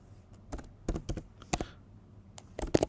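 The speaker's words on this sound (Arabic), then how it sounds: "اضغط رمز الباسورد الجهاز الخاص بك" Password being typed on a Mac keyboard: a quiet, irregular run of sharp key clicks and taps, close by, with short pauses between keystrokes and no talking.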